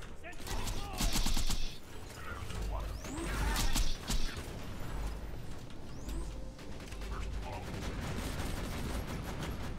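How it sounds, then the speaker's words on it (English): Rapid bursts of gunfire from a gun in the video game Borderlands 2 crackle in short clusters amid mechanical clanks and game effects, with a voice talking in the background. "He's shooting at a dead body again."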